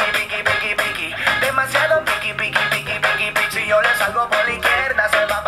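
A pop song plays from a laptop, a steady rhythmic beat with strong repeated percussion hits and dense vocals and melody, moderately loud and continuous throughout with no talking over it.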